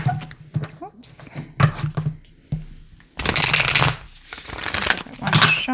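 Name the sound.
shuffling a Moonology oracle card deck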